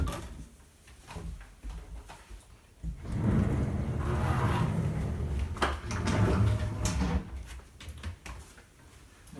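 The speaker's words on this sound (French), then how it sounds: "Une porte à galandage pour aller dans la salle de bain" A sliding pocket door into a bathroom in a Canadian cabin is rolled along its track, a loud, sustained rumbling glide with knocks at the start and end, close by.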